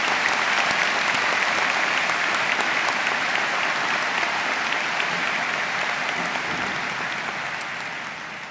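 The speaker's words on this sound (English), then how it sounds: "Let's give them a round of applause." A large audience at the Butler University commencement ceremony applauds honorary degree recipients, a sustained, even wash of clapping from many hands that slowly tapers off.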